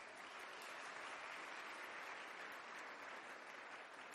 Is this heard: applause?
yes